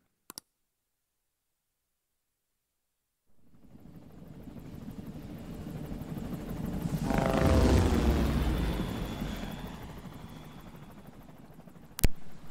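A helicopter in Persona 5 Royal approaches out of silence, its rotor whir and clatter swelling to a loud peak mid-clip and then easing off, followed by a sharp click at the end.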